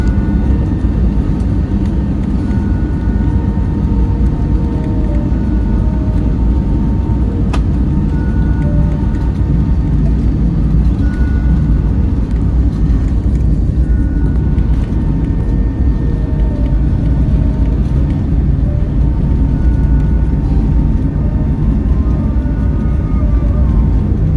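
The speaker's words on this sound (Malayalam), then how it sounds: "ഫ്ലൈറ്റ് ടേക്ക് ഓഫ് ചെയ്യാൻ പോകണേ" Loud, constant roar of jet engines heard from inside a plane taking off on a Vistara flight from Trivandrum to Mumbai, a dense rumbling drone with a steady hum throughout.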